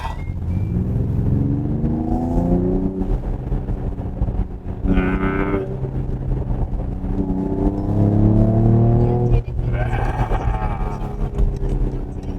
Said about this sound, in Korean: 짧은 터널이지만 한번 배기음 들려주시죠.